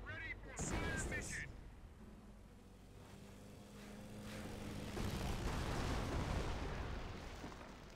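Artillery battery firing in the Company of Heroes strategy game, sharp booming blasts near the start followed by a long rumbling roar and rolling explosions, while someone talks over the game sound.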